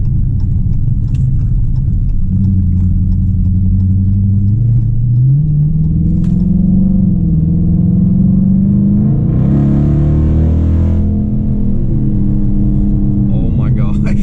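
A Dodge Challenger R/T with a Roar pedal throttle controller rumbles loud and close from inside the cabin, its engine revving and climbing through acceleration as the pitch rises and drops between shifts, with talking over it.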